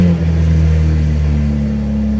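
A catless, untuned BMW G80 M3 on a cold start gives a deep, steady engine drone with a strong low rumble, loud and close and unbroken for about two seconds, with no talking.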